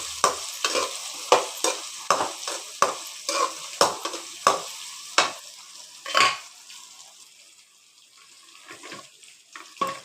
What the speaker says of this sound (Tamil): கத்திரிக்காய் நல்லா வதங்கி வரட்டும்